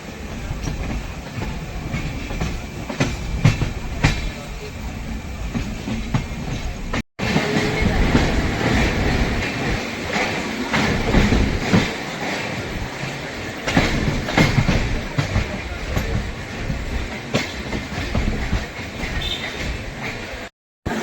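A passenger train leaving Amritsar toward Pathankot rolls along the rails with a steady loud rumble and rhythmic clickety-clack of the wheels, heard up close and continuous apart from two brief dropouts.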